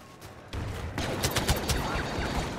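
Gunfire in the Star Wars Battlefront video game, Ice Caves map: after a short lull, a dense burst of rapid blaster shots crackles loudly and continuously, with no voices over it.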